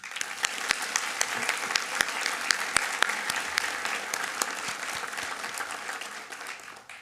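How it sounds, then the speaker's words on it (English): Steady applause from the audience at a pharmacy college white coat ceremony, moderately distant, with distinct sharp claps over the crowd and a taper at the end. "Let's give them a round of applause."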